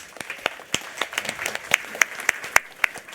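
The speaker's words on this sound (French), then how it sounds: "Merci de l'applaudir." An audience at a Google Cloud Summit in Paris applauds with a short round of scattered claps, several loud close hand claps standing out over a softer background patter.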